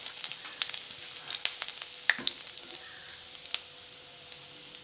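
Finely chopped garlic fries with popped mustard seeds in hot oil for a mango-ginger puli inji, a soft continuous sizzle dotted with sharp crackles and pops.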